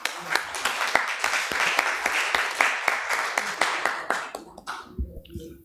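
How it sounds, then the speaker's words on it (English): At a press briefing, a small gathering claps for the Honorable Minister of Interior, with distinct, fairly sparse hand claps in an uneven rhythm that thin out and stop near the end, leaving some low background noise. "Please, can we give him another round of applause?"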